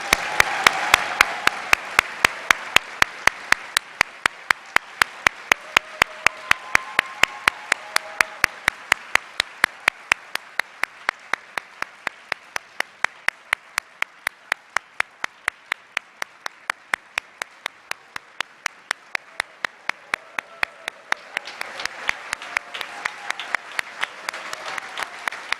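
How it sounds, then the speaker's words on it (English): Sustained applause fills a graduation diploma recognition ceremony for a law school class of 2020. The steady clapping runs for the whole stretch, with a regular, prominent nearby clap standing out above the wider crowd. "how about a round of applause for the class of 2020?"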